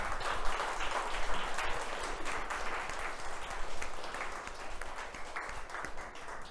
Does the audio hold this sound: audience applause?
yes